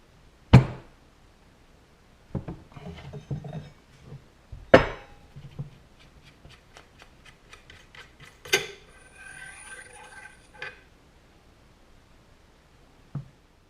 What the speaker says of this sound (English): we need to loosen this nut with our AR-15 armorer's tool